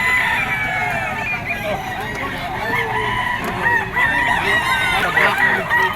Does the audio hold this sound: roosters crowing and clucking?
yes